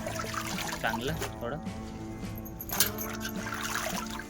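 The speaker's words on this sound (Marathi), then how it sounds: "चांगलं पाण्याने धुवायचं कारण की बाहेर असल्याने त्याच्यावर वेगवेगळ्या माती पानं पडलेली असतात तर धुवून घ्यायची" Tap water trickles and splashes as colocasia leaves for patra vada are rinsed clean of soil, a steady close wash with someone talking over it.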